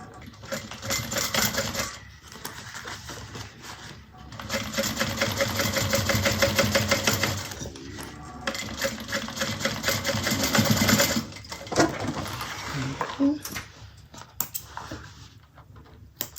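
A sewing machine top stitching through the base of a bag runs in fast, even bursts of needle clatter, pausing briefly between runs, close and clear with no talking.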